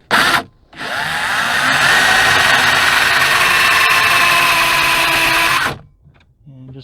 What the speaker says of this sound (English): And just give it a quick pilot hole drill.